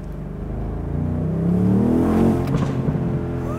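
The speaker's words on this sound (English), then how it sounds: "And it keeps on making pops and bangs." A BMW M850i Convertible revs loud and close, its engine note swelling then easing, with sharp crackling exhaust pops and bangs breaking through around the middle and end.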